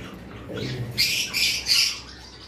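A pair of white-face cockatiels squawk in a few loud, harsh bursts close by, with a brief lower call near the start and no talking.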